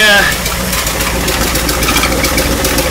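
A 1959 Mercury Monterey engine idles steadily with a raspy, puttering exhaust note from a patched exhaust leak, a low rumble running unbroken throughout.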